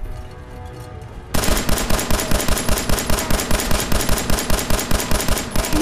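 Rapid automatic gunfire in the video game Fallout 4, a loud, steady stream of closely spaced shots that bursts in after a quieter second and continues without pause to the end.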